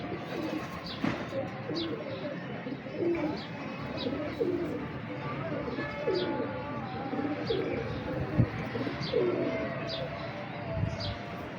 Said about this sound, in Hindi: बराटे कबूतर का शौक करें।